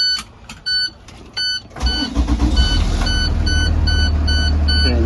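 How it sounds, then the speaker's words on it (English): A bus engine cranks and starts after a series of repeated electronic warning beeps, then settles into a loud, steady idle rumble with the beeps continuing over it. "Okay, now that my bus is running,"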